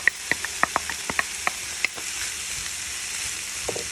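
Peppers and onions hit a hot pan, crackling with a quick run of sharp pops over a steady sizzle that settles into a softer hiss, close by with no speech.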